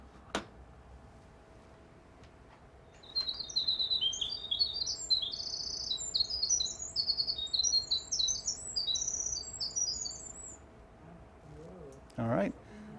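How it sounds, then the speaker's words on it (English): A single bird delivers a long, continuous recorded song of rapid high warbling notes running without a break for about seven seconds, preceded and followed by quiet background. "They have the longest song, continuous song, of any bird in the U.S."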